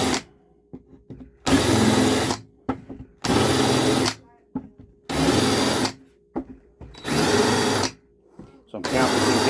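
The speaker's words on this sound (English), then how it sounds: "So I'm countersinking my screws just so that they sit flush or just even inside a little bit." A power drill countersinking screws whirs in five or six short, loud bursts of about a second each, separated by brief pauses and faint clicks.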